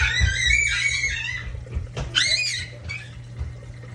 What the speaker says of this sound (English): I apologize for all the screaming and stuff the kids are playing.